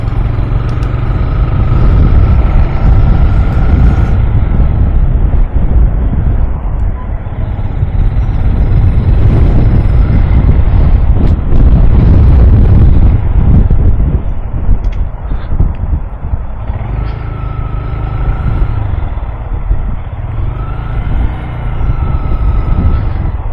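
Heavy wind on a bridge roars and buffets the microphone continuously, mixed with the low engine drone of a Honda Grom motorcycle.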